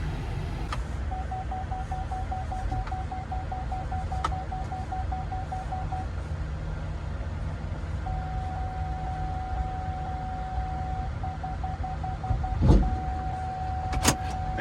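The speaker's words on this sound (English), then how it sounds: "I got my little remote here that I can raise and lower the front landing gear to line myself up with the hitch." Electric landing gear on the front of a 5th wheel trailer runs in a steady low motor whine over a continuous hum, with a short clunk near the end and no talk.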